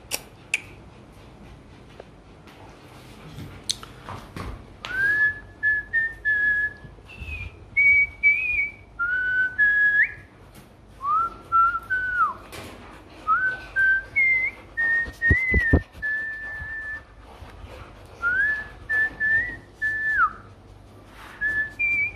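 A man whistles a short, wandering tune in clear phrases separated by brief pauses, close and alone against quiet surroundings with a few faint clicks.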